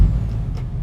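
A Freightliner Cascadia truck pulls away in American Truck Simulator, its engine giving a steady, close low rumble for a brief moment, with no talking.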